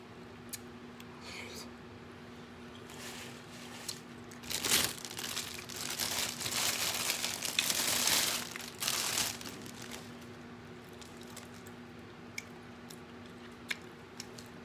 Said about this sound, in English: That's how to eat crawfish.